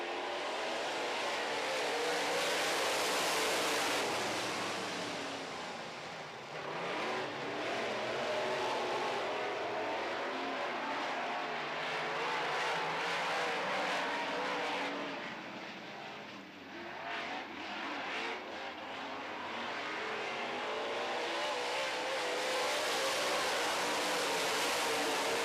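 Modified race cars leave the line together to start a heat race on an oval track, a loud, continuous roar of engines swelling and fading as the pack accelerates and passes, with no talk.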